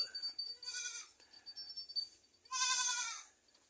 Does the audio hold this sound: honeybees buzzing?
no